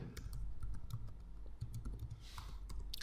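Computer keyboard typing while entering a purchase order in Tally Prime accounting software, a steady run of quick, close key clicks with a few irregular pauses and no voice.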